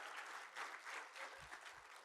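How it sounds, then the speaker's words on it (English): Faint, steady applause from a conference audience at a closing session honouring the staff, many hands clapping in a continuous wash throughout. "Let's give them a big round of applause and thank them for the tremendous conference that we have had"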